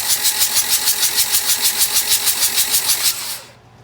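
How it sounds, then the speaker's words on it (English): A Kubota D1105 diesel engine cranks with a steady, rapid pulsing rhythm for about three seconds, then cuts off abruptly into near silence; loud and close, with no talking. "We'll button up a few more things, and then we'll be ready to crank on it, see what we get for oil pressure."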